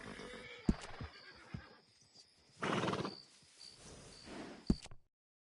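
A horse in Red Dead Redemption 2 gives a sharp snort and a long whinny between a few hoof clops and thuds, with a faint high tone running underneath before a sudden cutoff.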